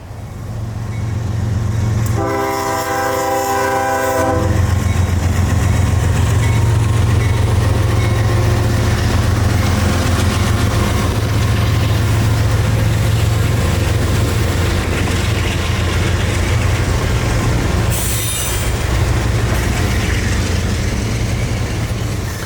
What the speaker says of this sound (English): the juice train continues its northward journey up the Palmetto subdivision for Tampa and Yeoman Yard